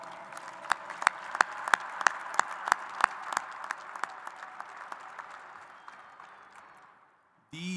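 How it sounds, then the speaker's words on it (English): A high school graduation audience applauds students, with distinct individual claps standing out over a softer crowd wash that gradually fades to near silence before a brief burst of sound at the end. "Please applaud these students for their program involvement"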